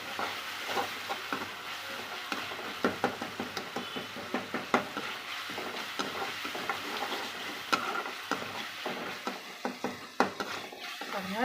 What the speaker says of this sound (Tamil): தக்காளி நல்லா ஒரு எண்பது பர்சன்ட் வேகணும் அந்தளவுக்கு வணக்கிக்கலாம்